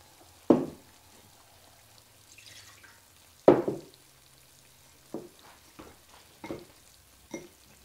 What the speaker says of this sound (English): Stir it up real good here.